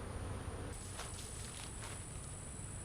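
A low, steady buzz comes from honey bees at a hive entrance, with a thin high whine running through it and a few soft scuffs. The sound is fairly quiet, and no one speaks.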